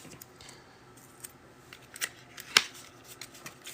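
Tape peeled off a trading card box in short, crackly tearing bursts, the sharpest rip coming near the end, quiet and close with no voices.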